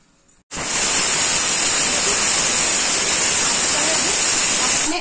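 A pressure cooker whistles while cooking Odisha-style dalma of lentils and vegetables: a loud, steady steam hiss bursts in abruptly after half a second and holds unbroken to the end, with no talking.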